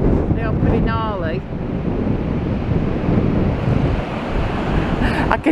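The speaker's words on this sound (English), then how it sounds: "the sea's going to be pretty impressive when it gets in, because it's the waves that are close to the shore" Wind buffets the microphone over a steady roar of waves breaking close to the shore after a storm, continuous and loud, with a brief chirp of birds early on.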